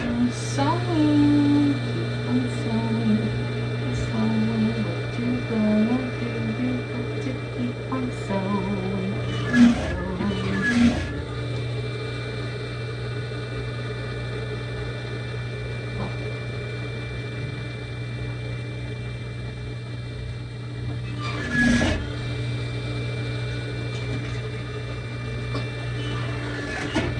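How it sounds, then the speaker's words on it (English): A sewing machine stitches the hem of barrel jeans, giving a steady mechanical hum with a couple of brief louder clunks, running alone at moderate level with no talk. "Sewing."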